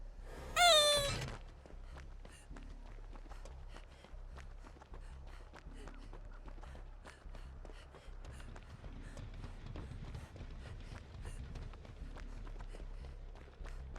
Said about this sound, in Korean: 자꾸 고양이가 있냐?